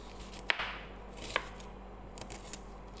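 Knife cutting chicken into small pieces, heard as a few faint, sparse chops and scrapes on a board against a low background hum.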